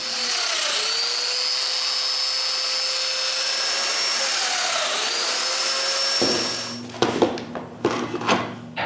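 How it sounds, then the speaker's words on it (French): A power drill bores mortises in wood for a workshop cabinet. A loud, sustained motor whine dips in pitch twice under load, then stops, followed by clattering knocks and handling noise. "je peux marquer et percer les mortaises pour leurs assemblages final"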